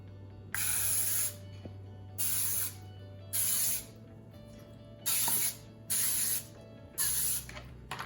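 Six short bursts of cooking spray hiss onto a muffin pan in an even rhythm, each about a second long, with a low steady hum underneath.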